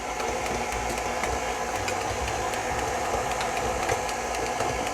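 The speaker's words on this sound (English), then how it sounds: "I'm actually going to stop the mixer" Electric mixer whirring steadily while beating cheesecake batter for a gingerbread bourbon cheesecake, a constant close motor drone with light rattling throughout.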